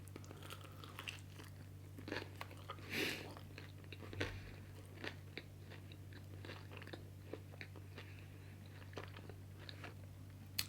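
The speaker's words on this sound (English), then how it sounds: "it's really nice to have like the crunch from the chips too" Crunchy chips in a stoner munchie snack being eaten: quiet, close crunching and chewing with scattered sharp bites over several seconds, no talk.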